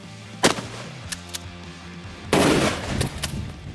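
Shotgun firing a slug into a cantaloupe outdoors: a sharp blast at the start, a couple of fainter pops, then a second loud report followed by a rumbling echo.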